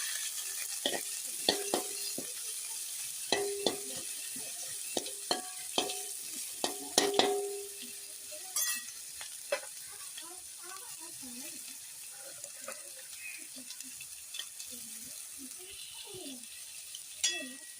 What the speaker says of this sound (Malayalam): വെളിച്ചെണ്ണ നന്നായിട്ട് തിളച്ച് വരുന്നുണ്ട് കേട്ടോ. അപ്പോഴേക്കും നമ്മൾ സവോള ഉള്ളി ഇതൊക്കെല്ലാം കൂടി ആഡ് ചെയ്ത്